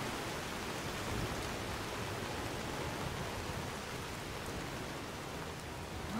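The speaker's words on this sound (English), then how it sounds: "God, it's still raining?" Continuous steady rain in the video game Skyrim, an even hiss of falling water with no voices, moderately loud and unchanging throughout.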